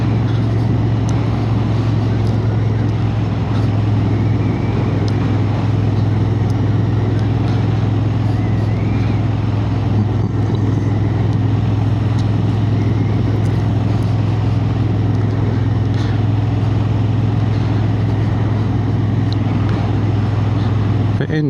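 Engine of a Honda Hornet 750 motorcycle pulling steadily through the gears, a constant loud drone with road and wind noise throughout, no clear gear-change breaks.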